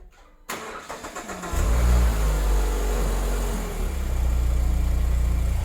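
A car engine cranks and catches in an underground garage, then settles into a loud, steady rumbling idle and rev that echoes off the concrete for several seconds.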